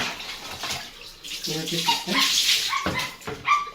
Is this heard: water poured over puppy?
yes